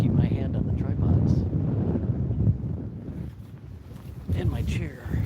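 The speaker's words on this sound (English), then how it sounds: "because it's so windy, I have to kind of keep my hand on the tripods" Strong gusts of wind buffet an outdoor microphone on a tripod overlooking the Kilauea volcano eruption on Hawaii's Big Island, a loud, steady rumbling roar that surges and dips throughout.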